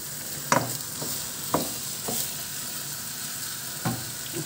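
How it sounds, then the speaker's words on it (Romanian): Meat and purple onion stirred in a sizzling pot for Székely goulash, a steady fry hiss broken by a few sharp scraping strokes of the spoon, close and moderately loud with no talk. "Și amestecăm și cu ceapă, uitați ce fain arată ceapă mov și cu carnea."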